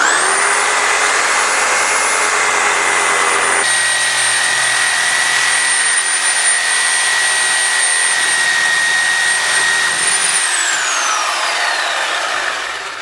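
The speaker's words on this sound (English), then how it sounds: "Reciprocating saw with a metal cutting blade." A reciprocating saw fitted with a metal-cutting blade cuts through nails between wooden pallet boards, giving a loud, continuous, high-pitched buzzing whine that holds steady for several seconds and then winds down at the end.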